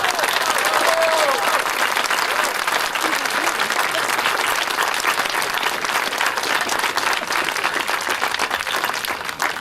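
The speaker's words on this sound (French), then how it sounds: "Alors, les applaudissements." An audience at a Mascouche commemorative celebration claps in sustained, dense applause that stays loud and even throughout, with faint voices mixed in.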